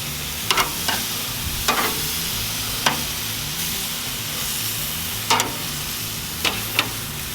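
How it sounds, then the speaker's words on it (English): Country-style pork ribs sear on a hot Monument grill with a steady, loud sizzle and hiss throughout, broken by a few sharp crackles and pops, close up and with no voices. "We're going to sear these on all sides for just a couple minutes on each side."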